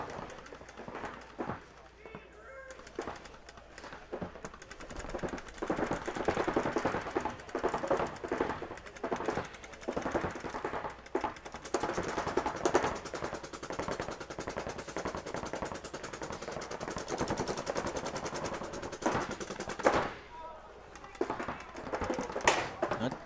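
Paintball guns at a competitive match fire in rapid, crackling volleys and overlapping bursts, some distant, some nearer, continuous for most of the stretch while a commentator talks over the action.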